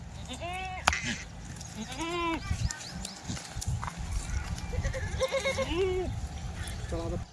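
Kathiawari goats bleat several times, loud and close, their wavering cries rising over a noisy background of people talking.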